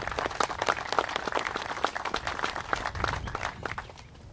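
A crowd at a military appreciation ceremony applauds Colonel Lance Koenig with steady, dense clapping that holds throughout and tapers slightly at the end.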